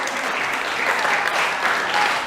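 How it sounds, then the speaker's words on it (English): A small group of people claps continuously and fairly loudly through a short stretch, a dense, even patter of hands indoors, with faint talk underneath. "Arabelle, stop clapping so we can hear what she's saying"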